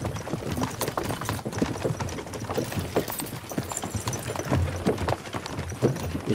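Horse hooves clip-clop steadily on the ground in Kingdom Come Deliverance 2, a busy run of close, uneven hoofbeats with faint voices mixed in behind.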